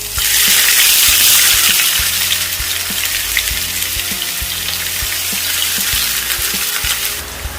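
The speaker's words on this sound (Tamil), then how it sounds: "எங்களோட வெங்காயத்தை ஃப்ரை பண்ணி எடுக்கிறதுக்கு" Three medium sliced onions fry in hot oil for Hyderabadi masala chicken, a loud, steady close-up sizzle with occasional soft clicks and stirring taps throughout.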